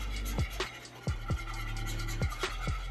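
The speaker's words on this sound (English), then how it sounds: "You must whisk that cornmeal or else it's gonna be clumpy." A whisk scrapes and stirs cornmeal in a pot for grits, giving a few distinct, fairly loud strokes and scrapes over a steady background, with no talking.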